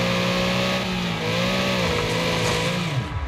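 A Panther RS car races at Rockfield Roughspot in Wreckfest, its mid-pitched engine droning loudly, then dipping in pitch toward the end, with no talk.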